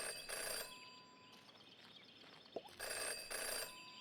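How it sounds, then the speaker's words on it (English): In the detective video game Jenny LeClue, an old-style telephone bell rings in two quiet bursts of rapid trilling, separated by a pause with a faint low hum and a soft click. "Jenny had learned never to ignore a ringing phone."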